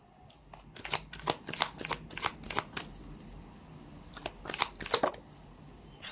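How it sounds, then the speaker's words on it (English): Cards are riffled and bridged in repeated quick bursts, crisp and close, with short pauses between shuffles. "You saw me shuffle as always, control and reverse."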